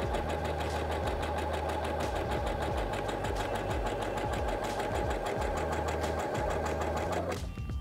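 A Singer HD6805C sewing machine running a stitch, its fast steady mechanical whirr and rhythmic needle knocking continuing close and alone before stopping abruptly at the end.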